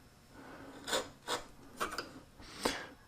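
A narrow chisel cuts across wooden dovetails along a scribe line, giving four short, separate rasping scrapes spaced about half a second apart, close and fairly quiet.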